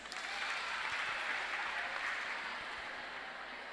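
Steady applause from a crowd at a school quiz competition, a continuous wash of clapping that holds for several seconds before easing slightly.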